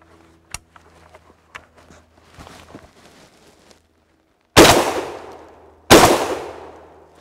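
An MKA 1919 AR-15 style shotgun fires Winchester low brass 8 shot: two loud, close blasts about a second and a half apart, each with a decaying tail, after a few quiet handling clicks and knocks.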